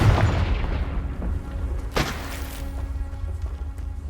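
A Confringo fire blast spell goes off in Hogwarts Legacy, a deep booming rumble that fades, then a second sharp burst near the middle, over a low background roar.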